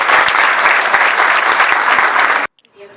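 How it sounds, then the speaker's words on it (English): Loud, sustained clapping from a big audience at an awards banquet and graduation ceremony that cuts off abruptly near the end, leaving brief quiet with a faint murmur. "your parents deserve a great round of applause for the effort they put in"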